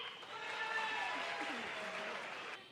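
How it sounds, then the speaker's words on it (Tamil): Steady applause from an audience at a crowded public event, a dense wash of clapping held evenly for the whole stretch, with murmuring voices and a faint whistle-like tone underneath. "அதுக்காக ஜோரா கைத்தட்டி ஒரு சல்யூட் அடிங்க"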